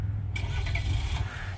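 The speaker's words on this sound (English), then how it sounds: "remote start" Remote start of a 2023 Chevy Colorado LT with a 2.7 liter turbo engine, a brief cranking catch that settles into a low steady idle rumble, close and continuous, with no talking.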